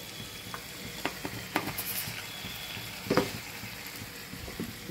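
Banana flower curry (mochar ghonto) sizzles and fries in a pan just after turmeric goes in, with soft stirring scrapes and a few sharper clinks over a steady low hiss, fairly close and quiet.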